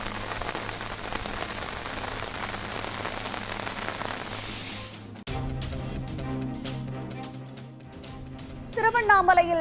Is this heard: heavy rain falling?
yes